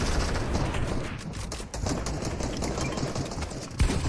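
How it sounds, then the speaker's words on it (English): Dense, continuous gunfire and scattered footsteps from a squad battle in the video game Fortnite, loud and busy throughout with overlapping bursts and no clear pauses. "It's so loud, there's so many footsteps and gunfire."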